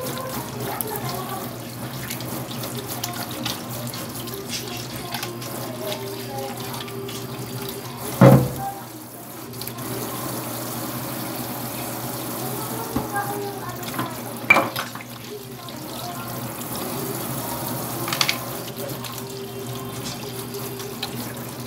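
Tap water runs steadily for handwashing with soap at a sink, a continuous wash of flow with a few louder splashes or knocks partway through; no speech over it.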